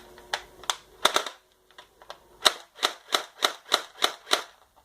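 Airsoft gun firing, a few separate single shots followed by a rapid burst of about eight sharp snapping cracks in full auto, close and loud with brief pauses between.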